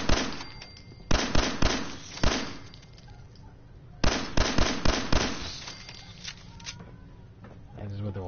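In-game gunfire in a shooter, heard as clusters of sharp, loud shots in two bursts with quieter gaps between, and a voice talking faintly underneath.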